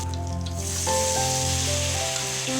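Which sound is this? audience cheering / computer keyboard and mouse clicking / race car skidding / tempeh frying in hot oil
tempeh frying in hot oil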